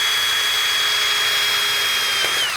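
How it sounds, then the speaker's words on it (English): A power drill drives screws into ColorBond steel roofing on a tiny home build, a loud, close, high whine that runs steadily and dips slightly near the end. "and then just drill in."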